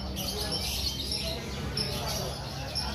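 Dense, continuous chirping from many caged birds, canaries among them, at the Prambanan bird market, with high tweets over a low background rumble and faint talk.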